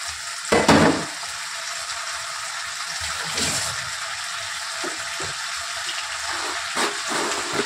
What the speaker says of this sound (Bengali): তেল দিয়ে আমি এই চিংড়ি মাছগুলো ছেড়ে দিলাম।